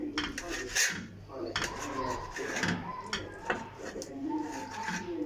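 Bitter oranges are cut into pieces for marmalade with a knife, giving scattered close knocks and scrapes of blade on board amid kitchen clatter, while someone speaks and a dove coos in the background.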